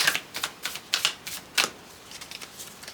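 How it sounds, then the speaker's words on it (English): A tarot card slides from the deck in a quick series of crisp, close riffling clicks and flicks, alone with no talk. "So let's pull another card here."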